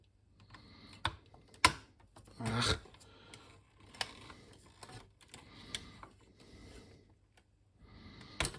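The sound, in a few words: plug being removed from IBM Portable PC power supply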